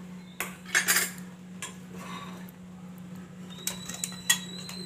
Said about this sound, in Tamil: பேன் வச்சுக்கலாம், தாளிக்கலாம்